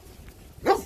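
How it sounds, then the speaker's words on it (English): A dog at a beach gives one short, sharp bark to warn strange dogs away, clear and fairly close over faint outdoor background. "Warning strange dogs away from his pack."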